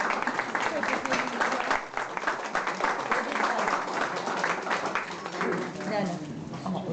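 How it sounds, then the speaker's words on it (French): An audience at a cultural association event applauds a guest invited up front. Dense, continuous clapping from many hands fills the room while voices talk over it throughout. "Applaudissez, s'il vous plaît"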